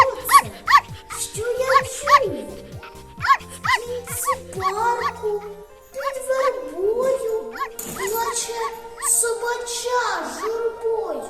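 A puppy yips, barks and whimpers in a quick, high-pitched run of cries close by, with a voice speaking over and between the sounds.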